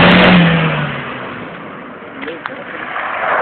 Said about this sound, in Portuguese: puxa o freio de mão e acelera